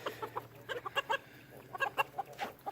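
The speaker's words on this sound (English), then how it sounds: "that Silky rooster that just walked by" Several short, soft clucks from a Silkie rooster come in little clusters at close range, separated by brief pauses, with a faint steady hum underneath.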